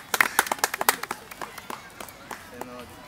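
Hands clapping in a quick, bright burst of claps that thins out and fades over a few seconds, with voices talking around it.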